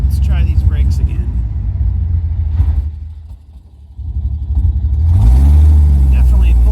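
A 1953 Hudson Super Wasp car rumbles along at low engine revs, easing off and quieting briefly as it brakes before the engine swells again; a voice speaks over it at the start and end.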